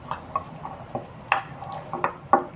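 A spoon stirs a cornflour mixture in a pot during dinner preparation, producing a steady series of soft scraping clinks roughly every quarter second with a light background hiss.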